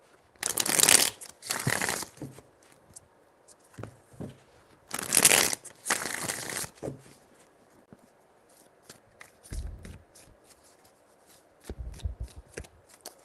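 Tarot cards shuffled in several crisp riffling bursts, loud and close, separated by quieter gaps with light handling taps and soft thumps.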